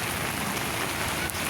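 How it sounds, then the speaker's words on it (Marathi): Monsoon rain pours down in Kalyan during days of nonstop downpour, a dense, even patter on surfaces that fills the whole moment closely without pause. "थोडा कमी झालाय पाऊस म्हणून बाहेर आलो तर आम्ही"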